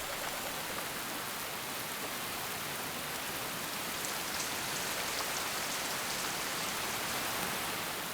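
Steady, heavy rain pours down across a Madagascar rainforest, a dense, even hiss of drops with no pauses and no voices.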